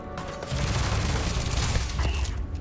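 Rapid gunfire from the video game Starfield, a dense, loud, continuous burst of shots as a whole magazine is emptied, filling the moment without speech.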